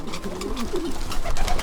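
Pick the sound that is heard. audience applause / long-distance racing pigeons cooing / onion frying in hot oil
long-distance racing pigeons cooing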